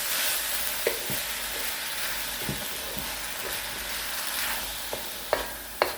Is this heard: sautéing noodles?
yes